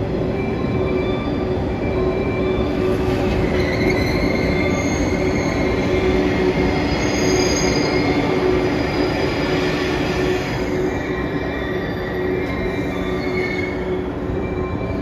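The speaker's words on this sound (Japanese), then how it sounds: "回送列車の113系電車が来ました。" A JR 113 series electric train, running out of service, rolls past close by at Okayama Station in a loud, continuous rumble, its wheels squealing in long high tones over the rattle of the cars.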